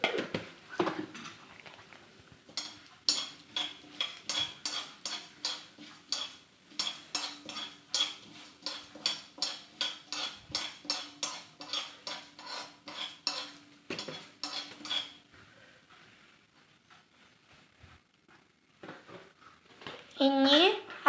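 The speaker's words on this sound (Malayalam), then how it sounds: "ഇനി നന്നായി ഒന്ന് ഇളക്കി കൊടുക്കാം." Cabbage with urad dal and lentils being stirred in a pan, a long run of quick rhythmic metal scraping and clinking strokes, close and moderately loud, fading to near quiet before a few final clatters.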